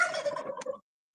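A turkey gives a single short, close gobble, a quick warbling burst lasting under a second before silence.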